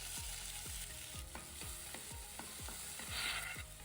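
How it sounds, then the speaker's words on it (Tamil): Mustard seeds, curry leaves and chopped onions fry in hot oil, a constant sizzle broken by regular, rhythmic scraping strokes of a spatula against the pan, with no talking. "கடுகு பொறிஞ்சதுமே கருவேப்பிலை நம்ம வெட்டி வச்சிருக்க வெங்காயம்"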